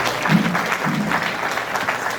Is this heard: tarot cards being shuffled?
no